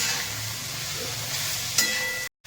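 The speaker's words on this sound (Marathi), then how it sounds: "तर आता व्यवस्थित अशी सगळी भाजी आपण मिक्स करून घेऊया" Methi bhaji with green chilli and crushed peanut powder being stirred in a pan, a soft continuous scraping sizzle with one brief clink near the end before sudden silence.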